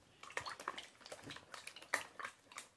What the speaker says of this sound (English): now we're going to stir